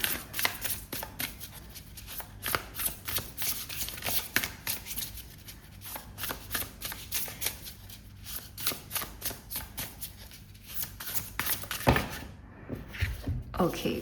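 Tarot cards being shuffled by hand in a quiet indoor reading, a steady run of crisp, close riffling and slapping bursts repeating throughout, with a few sharper card draws and handling knocks near the end.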